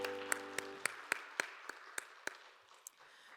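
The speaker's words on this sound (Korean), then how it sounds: "서로를 격려하면서 박수하겠습니다." Scattered, sparse claps from a church congregation during a Sunday youth service, a dozen or so distinct sharp hits spaced irregularly and fading, fairly faint with no talk over them.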